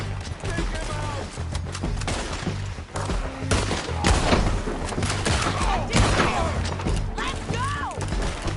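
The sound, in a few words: gunfire in a video game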